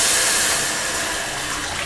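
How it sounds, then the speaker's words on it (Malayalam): Thin third-extract coconut milk is poured into cherupayar parippu payasam, making a short, close, rushing splash that eases slightly as it continues. "ഇനി ഇതിലേക്ക് തേങ്ങാപ്പാലിൻ്റെ 1/3 പാൽ ഒഴിക്കാം"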